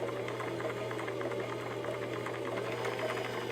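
A Viking 6460 sewing machine, a parts machine with a loose part that knocks, runs at a steady moderate speed, giving a continuous close mechanical hum with fast rhythmic clatter throughout.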